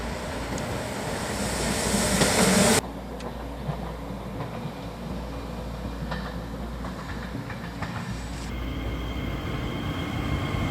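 A Darjeeling Himalayan Railway train running through the Himalayan foothills, a loud continuous rumble with a sudden drop in level partway through, then a steady lower roar with faint rail clatter.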